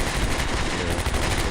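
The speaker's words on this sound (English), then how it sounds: "Yeah, a lot of shooting." Heavy WWII battle gunfire from Combat Mission: Beyond Overlord at Carentan, with dense overlapping machine-gun and rifle bursts filling the whole stretch at a steady, loud level and no talk.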